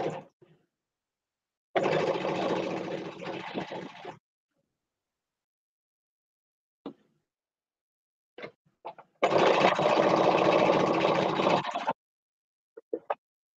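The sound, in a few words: sewing machine chain piecing quilt blocks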